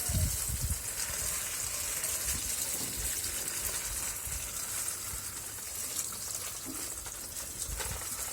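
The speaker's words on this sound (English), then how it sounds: "The water's running down into the water container below, so that's good." Water trickles and drips down through wet seedling pellets into a container below, a steady soft splashing gush that stays fairly constant throughout with no talking.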